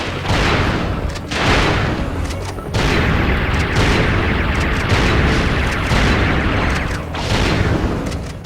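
Blitz cannon fire in the PlayStation 2 game Ratchet & Clank: Going Commando, heavy booming blasts that repeat in a dense, loud barrage with almost no pause between them.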